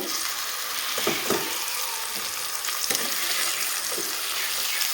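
Oil sizzles and crackles steadily as green bananas fry in a pan, with a few soft stirring scrapes mixed in.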